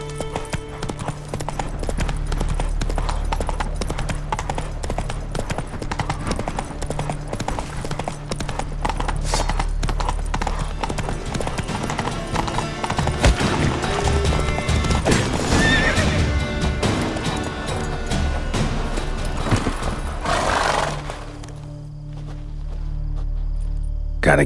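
A horse in The Witcher 3 gallops with a steady, loud clip-clop of hooves and whinnies over game music and ambience, and the hoofbeats fade out near the end.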